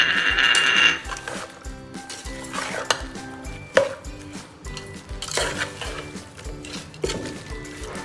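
Yogurt marinade for chicken biryani is mixed in a bowl, with a spoon clinking and scraping against the sides in an irregular rhythm of close, moderately loud knocks and stirs, and no talking.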